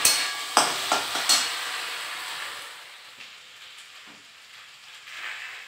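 Okra (bhindi) fries in a pan as a soft sizzle, with a few sharp metallic clinks and stirring scrapes at the start, and the sound fades to a quieter sizzle.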